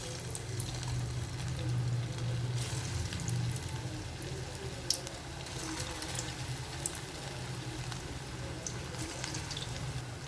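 Potato fingers dropped into hot oil give a steady, low sizzling and bubbling that runs the whole time, soft and continuous with a few faint clicks and no voices.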